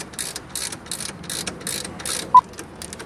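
A ratchet wrench clicks as it tightens small brake caliper bolts, about seven quick bursts of ratcheting in a steady rhythm, close and crisp, with a brief tonal beep near the end.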